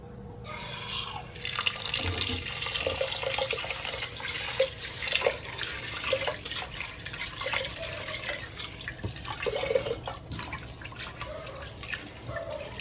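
Water splashes and trickles steadily as lentils are swished and rinsed in a bowl, with small drips and clinks throughout.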